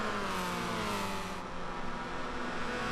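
Race cars lapping Brands Hatch in Gran Turismo 6 give a steady, dense engine drone with layered revving tones, loud and continuous, with no talking.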